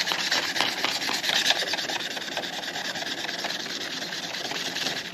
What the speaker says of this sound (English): I'm just using a bit of 360 grit here